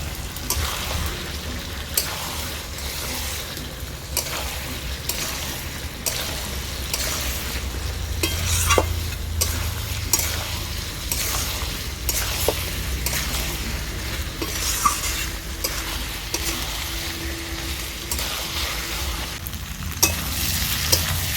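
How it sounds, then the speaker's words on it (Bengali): Jackfruit cooking with meat in a pan gives off a steady sizzle, while a spatula stirs and scrapes through it with occasional sharp taps against the metal, heard up close. "আর একটু জল দিয়ে এঁচোড়টাকে ভালো করে কষিয়ে নেব"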